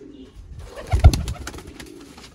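A Persian breeder pigeon gives a soft, low cooing call close by, one short throaty burst amid light rustling.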